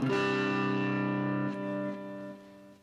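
A heavily distorted electric guitar chord rings out loud and sustained through a Roland Micro Cube practice amp in classic stack mode, then a second chord follows and slowly decays, with no speech.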